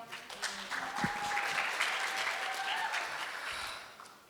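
An audience claps to welcome a contestant at a Korean speaking contest in Toronto, a moderate, steady round of applause lasting several seconds that swells early and fades toward the end.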